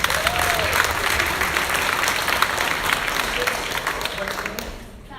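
Audience applause fills a legislative theatre event, a dense, steady wash of clapping from a full crowd that sustains for several seconds before trailing off at the end.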